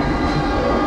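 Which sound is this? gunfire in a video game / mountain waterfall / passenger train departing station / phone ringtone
passenger train departing station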